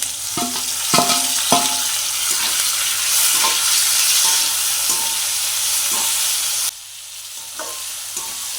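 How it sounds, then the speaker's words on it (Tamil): Garlic and curry leaves frying in a pan, a loud, close sizzle broken by repeated scrapes and stirring knocks, quieting sharply near the end. "அடுத்ததாக நாங்கள் உள்ளி கருவேப்பமில்லை ரம்பையில் அப்படியே சேர்த்து தான் போட போகிறோம்."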